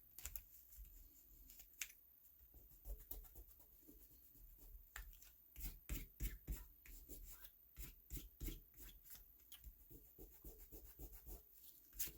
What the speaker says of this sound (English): I need to rub away some of that extra glue.